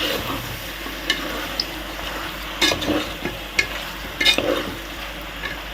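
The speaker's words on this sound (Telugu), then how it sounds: "ఒకసారి కలుపుకుందాం." Chicken curry being stirred as it fries in a pan, a steady sizzle under intermittent scraping and clinking of the spoon against the pan, close and alone without talk.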